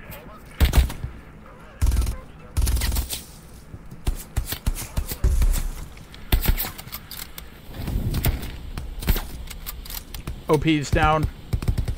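Machine gun fire in the Hell Let Loose World War II shooter comes as sharp, loud bursts and rattling volleys, mixed with scattered distant shots, while a player talks briefly.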